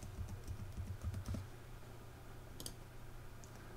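A password is typed on a computer keyboard, a quick run of close, soft key taps for about a second and a half, then a few isolated clicks in a quiet room.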